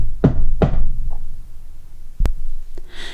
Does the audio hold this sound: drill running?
no